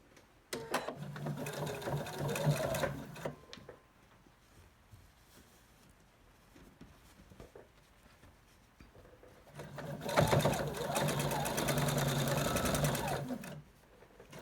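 A sewing machine stitches a quilt block seam for the Hunter Star block in two separate runs, each about three seconds long, with a quiet stretch between them. The motor hum is steady and close, with no voices.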